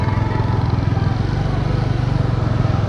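A Bajaj Dominar 400 motorcycle rides along with a steady, loud, close engine drone and a throbbing exhaust pulse that holds an even pace throughout.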